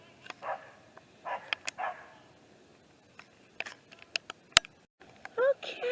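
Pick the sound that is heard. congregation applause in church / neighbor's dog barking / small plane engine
neighbor's dog barking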